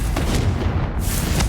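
Blast of the Confringo explosive spell in Hogwarts Legacy, a deep rumbling boom that fills the whole clip with a steady low roar and no speech.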